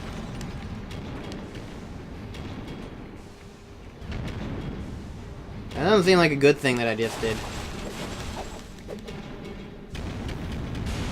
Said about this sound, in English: More explosions! This is the land of explosions.